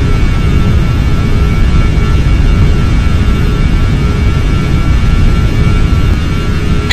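Steady, loud roar of airliner jet engines at takeoff power in the game Flight Simulator X, a constant broadband rumble with a strong low end and faint tonal whine throughout.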